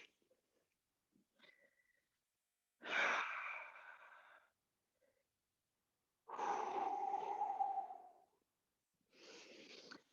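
Slow, deliberate breaths during a yoga session: a long audible exhale, then a longer breath a few seconds later and a shorter one at the end, close and soft with quiet pauses between.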